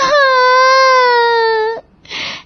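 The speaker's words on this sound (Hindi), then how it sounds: "जोर जोर से रोने की आवाज सुनकर सास वहां आती है" A woman crying loudly in a sustained, wailing sob that holds for nearly two seconds, then a short, breathy sob after a brief pause, close and alone with no talk.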